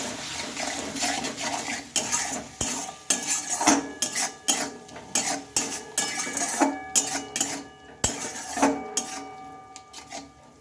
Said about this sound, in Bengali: এখন মশলাটা আমি ভালোভাবে কষিয়ে নেবো